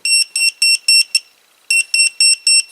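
Sharp high-pitched electronic beeps from a voltage tester detecting power, in quick repeated bursts, pausing briefly before resuming in the same insistent rhythm, loud and close.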